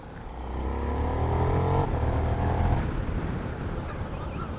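KTM 1390 Super Duke R EVO motorcycle accelerating hard in third gear at half throttle, a loud, close engine note that rises steadily in pitch for about two seconds, then settles into a rough, continuous roar.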